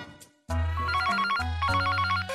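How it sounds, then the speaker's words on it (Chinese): Telephone ringing with an incoming call on a studio dating show set, a loud electronic ringtone that starts after a short pause and repeats in bright, rapid trilling bursts. "我们看看是谁这个时候打来电话。"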